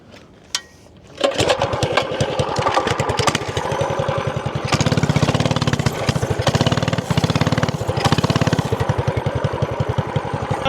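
A custom mini trike's small engine sputters to life after a brief knock and then runs loud and close with a fast, steady, chugging putter that thickens midway.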